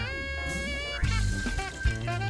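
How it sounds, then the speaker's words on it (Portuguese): Water drains from soaked bulgur wheat, a steady close pour and trickle running through the whole stretch with tonal music underneath and no talk. "Vamos escorrer só um pouco dessa água."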